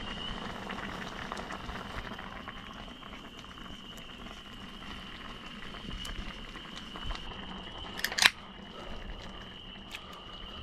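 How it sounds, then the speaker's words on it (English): Corned beef and potatoes boiling in a pot at a van campsite, a steady close bubbling and hissing with one brief clatter near the end, no talking. "try to let it boil itself off just a little bit"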